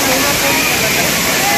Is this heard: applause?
no